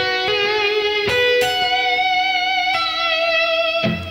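Electric guitar phrase played with whammy-bar bends and pull-offs: sustained, harmonically rich notes with a few sharp attacks, close and loud with no talking.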